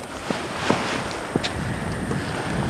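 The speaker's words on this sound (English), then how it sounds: "here comes the wind" Steady wind buffeting a microphone outdoors on an exposed slope, a broad rushing noise throughout with a few faint knocks and taps.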